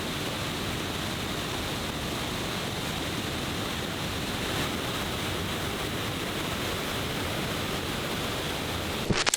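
The Cascada del Kilo waterfall in the Amazon forest of Ecuador produces a constant broadband rush of falling water, steady and fairly close, with no voices until a brief knock at the very end.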